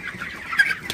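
Broiler chickens on a farm at night, soft overlapping clucks and murmurs from a flock, brief and close with a steady low background.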